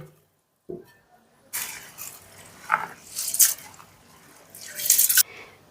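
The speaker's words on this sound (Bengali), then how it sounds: "এবারে আমি চালটা আলতো হাতে 3 থেকে 4 বারের মতন বেশ ভালো করে ধুয়ে নেব।" Basmati rice is swished and rubbed by hand in a bowl of water, giving several bursts of splashing and wet gritty rustling, close and moderately loud, with quiet pauses between.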